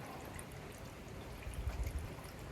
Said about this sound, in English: I want to flush most of that bloody fuely shit out of it